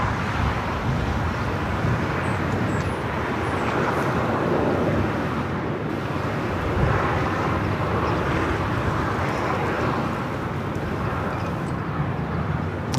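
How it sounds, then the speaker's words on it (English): Boeing 787 Dreamliner rolling down runway 25 right at Los Angeles International Airport, a steady broadband engine roar and rumble from a distance, holding constant with no voices. "we do have the all Dreamliner now rolling it down to 25 at right"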